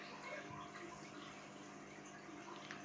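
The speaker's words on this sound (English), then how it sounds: "Now squeeze out excess water from the puffed rice and add it to the pan." Water trickles and splashes as soaked puffed rice is squeezed by hand for puffed rice upma, a steady faint wet patter running throughout with no talk.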